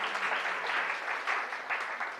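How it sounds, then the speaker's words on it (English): An audience at a Sunday feast gathering claps together, a brief burst of even, fairly close applause that holds steady throughout. "So give a big round of applause."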